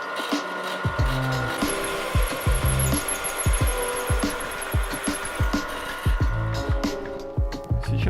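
Steady power-tool whine with repeated grinding bursts as a 25 mm hole saw bites into a metal body, close and loud, with a voice faintly underneath.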